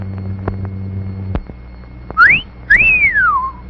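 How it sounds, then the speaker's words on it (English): An appreciative two-part wolf whistle for concession-stand hot dogs, loud and close: a quick rising note, a short gap, then a longer tone that rises and slowly falls, after a few soft knocks. "the hot dogs at our concession stand do rate an appreciative whistle"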